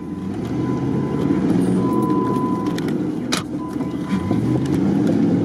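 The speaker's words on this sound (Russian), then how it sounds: "там топовый внедорожник, слышны звуки его" Steady low engine rumble of a top-spec off-road SUV working nearby on a peat bog off-road course, continuous and fairly loud with a brief sharp clank midway.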